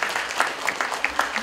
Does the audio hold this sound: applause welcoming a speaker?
yes